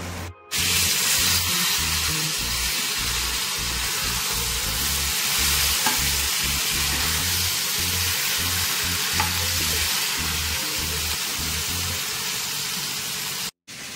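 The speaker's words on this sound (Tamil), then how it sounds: "மீன் போட்டு குழம்பு நல்லாவே கொதிச்சிருக்கு, நல்லா திக்காக கொதிச்சிருக்குங்க" Thick fish curry boiling in a pot makes a steady loud hissing bubble that runs almost unbroken, close up, with two brief cuts at the start and end and no voices.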